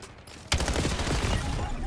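Gunfire in Call of Duty: Black Ops 7 multiplayer erupts suddenly after a brief quiet moment, a loud dense burst of rapid shots with game noise underneath.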